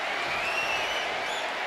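Arena crowd in the WWE 2K25 wrestling video game, cheering and clapping in a steady, dense roar with a few whistles rising above it, moderately loud and continuous with no talk.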